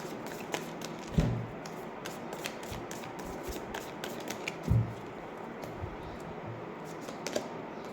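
Tarot cards being shuffled by hand, a series of soft riffling flutters and light taps with two heavier thumps of the deck, close and fairly quiet with no talking.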